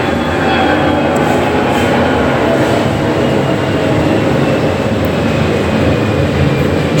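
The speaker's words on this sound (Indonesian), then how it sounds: "sorry ada pesawat lewat guys." An airplane passing overhead during an outdoor recording, a loud steady broadband roar that fills the whole stretch without letting up, with no talk over it.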